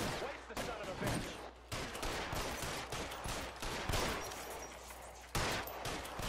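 Heavy gunfire in L.A. Noire, a dense run of rapid shots and bursts from a gunfight that goes on with hardly a pause, loud and close, with shouted voices mixed in.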